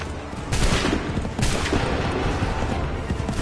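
Repeated volleys of musket gunfire in the Assassin's Creed 3 video game, loud dense blasts with bursts near 0.5 s and 1.5 s rolling into continuous crackling battle noise throughout.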